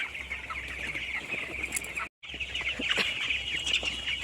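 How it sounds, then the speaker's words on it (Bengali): A hen house on a poultry farm holding roughly 1000 to 1500 chickens, with a dense chorus of clucking and high chirping over a faint low hum, cut by a brief silence midway. "এদিকে আছে মুরগি"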